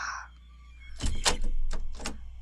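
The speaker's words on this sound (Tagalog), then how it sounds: "Parang may naglak ng pinto sa labas." A door shut and latched outside as a story sound effect: a sudden heavy thunk followed by a few rattling, clacking knocks of the latch and frame, alone against near silence.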